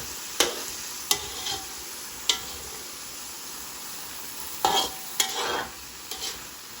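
Beef chop suey with vegetables being stirred in a pan, with a handful of sharp utensil scrapes and clinks spaced irregularly over a faint background sizzle.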